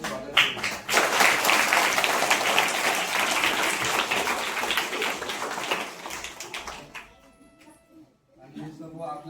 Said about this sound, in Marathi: सगळ्यांनी एकदा आपण जोरदार टाळ्या वाजवून त्यांचं स्वागत केलं